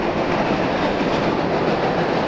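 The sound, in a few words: freight train with cattle cars going by at Harpers Ferry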